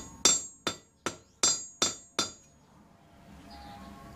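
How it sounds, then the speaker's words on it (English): A ball peen hammer strikes metal on a flat surface six times in a steady rhythm, each blow sharp and ringing, then quiet room noise follows. "My poor man's anvil. Ball peen hammer, flat surface,"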